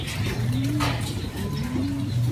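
Racing pigeons coo in low, rolling calls, close and steady over a constant background hum, with a few overlapping coos from several birds.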